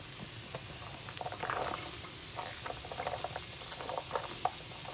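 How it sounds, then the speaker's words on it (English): Carrots sizzle and crackle as they are added to a pan with sesame oil and translucent onion, a soft, steady frying hiss with scattered small pops. "so now I'll add the carrots"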